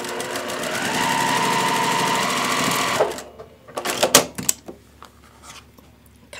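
Sewing machine stitching quilt block pieces with a quarter-inch seam and 2.0 stitch length, a steady loud whirring run for about three seconds before it stops, followed by a few scattered clicks and handling knocks.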